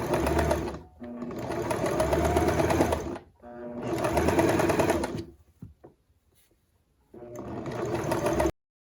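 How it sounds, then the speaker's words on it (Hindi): Sewing machine stitching along a kameez neckline, running loud and steady in several long bursts with short stops between them, close to the listener. "अब ये देखें इधर सिलाई लगाने लगे।"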